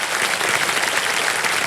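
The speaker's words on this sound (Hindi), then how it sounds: "तालियां बज जाए" A studio audience on the Kaun Banega Crorepati quiz show set applauds steadily, a dense, loud wash of clapping with no voices over it.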